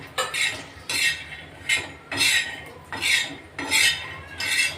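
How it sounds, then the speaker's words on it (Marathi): Peanuts dry-roasting in a pan are stirred in regular sweeps, each pass a rattling scrape of nuts and utensil against metal, repeating about six times in a steady rhythm. "शेंगदाणे आपले आता भाजत आले, थोडा कलरही बदलला आहे"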